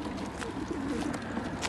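Racing pigeons in a loft cooing softly, a few low throaty coos over faint background rustle and chatter.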